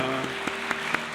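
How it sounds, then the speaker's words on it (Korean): Congregation clapping at a Sunday service in a Korean Presbyterian church, with steady, fairly loud rhythmic claps over a room-filling murmur of applause. "우리 주님께 영광의 박수 한 번 더 올려드리겠습니다."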